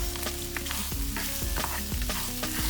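Lobster tail pieces sizzle and sauté in a pan of soy sauce and garlic, with steady crackling, a few utensil scrapes and stirring knocks close by, and no talking.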